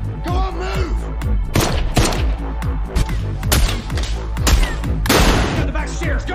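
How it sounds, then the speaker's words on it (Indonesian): A gunfight in a film: bursts of rapid gunfire and heavy shots ring out in clusters, with thuds and crashes between them, loud and close, and faint voices mixed in. "Namun mereka berdua diketahui oleh Deacon dan baku tembak pun tak terelakkan."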